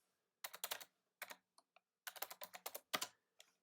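Keys clacking on a computer keyboard while variable names are typed into code, with bursts of quick keystrokes and short pauses in an otherwise quiet room.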